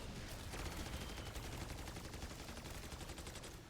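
Rapid automatic gunfire from Black Ops 6 Zombies rattles in a fast, continuous stream of evenly spaced shots, close and steady throughout.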